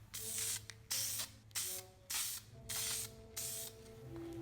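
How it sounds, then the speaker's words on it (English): Aerosol can of filler primer hissing in repeated bursts over car trim during painting, five or so close, loud sprays separated by short pauses. "When I'm done using aerosol paint to keep the nozzle from clogging, turn it upside down and let the rest of the paint spray out."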